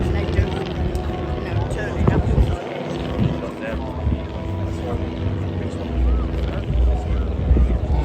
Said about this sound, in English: I give you the 2022 Chinook display.